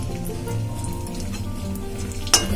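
Raisins fry in hot ghee while semolina laddoos are being made, giving a steady close sizzle and crackle with one sharper pop near the end and no talking.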